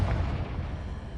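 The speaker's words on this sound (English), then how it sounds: "Confringo!" A Confringo spell blast goes off in the Hogwarts Legacy video game, a short deep boom that rumbles and fades over about a second.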